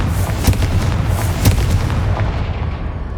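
Confringo blasting spell explosions in Hogwarts Legacy, a rapid series of close, heavy booms and thuds rumbling over a constant low roar, with no talking.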